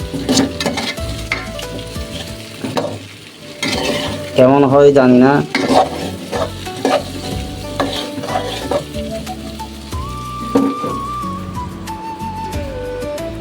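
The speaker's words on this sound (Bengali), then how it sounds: "আলুগুলো দিয়ে দিলাম ভাজার জন্য।" Chopped potatoes fry in a pan with a loud, steady sizzle and repeated stirring scrapes, while a person speaks briefly and music plays along underneath.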